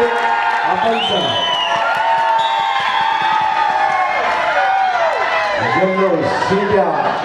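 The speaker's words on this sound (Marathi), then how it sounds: "शिट्या टाळ्या आवाज" A crowd at a girls' semi-final sports match in Panvel cheers, whistles and claps continuously and loudly, with rising whistle tones and a commentator talking over the noise.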